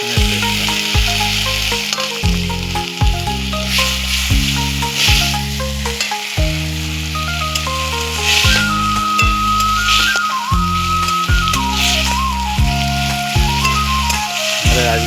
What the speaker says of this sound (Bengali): আদা রসুনটা কষানো হয়ে গেছে